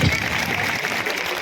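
A crowd at a Bihar political rally claps together in a short, dense burst of steady applause.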